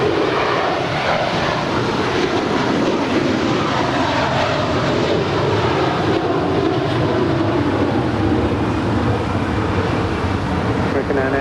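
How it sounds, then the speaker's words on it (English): An Eva Air Cargo Boeing 777 departing from runway 25 right at LAX makes a loud, sustained jet engine roar that fills the whole stretch. "Eva Air Cargo 777 is the next departure on 25 right"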